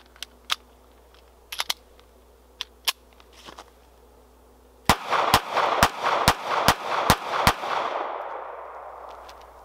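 Taurus Spectrum pocket pistol firing seven rounds at an outdoor range, a quick evenly spaced string of sharp loud cracks after a few scattered clicks and handling knocks, the last shot ringing off into a fading echo.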